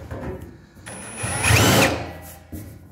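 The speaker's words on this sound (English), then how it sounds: "I'm going to put my countersink on here and just do a really quick cleanup." A drill spins a countersink bit to clean up a freshly drilled hole, a brief whirring burst that swells up, peaks with a grinding whine, then winds back down, close and alone.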